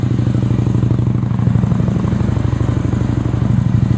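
A Victory Vision Police Edition motorcycle engine idles steadily nearby, a low, even throbbing putter that holds a constant rhythm throughout.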